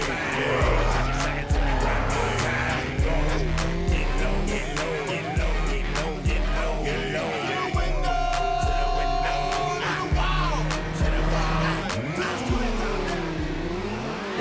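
A racing video game with drag, circuit and drift modes: a car engine drones and revs steadily while tires squeal repeatedly through turns, loud and continuous throughout.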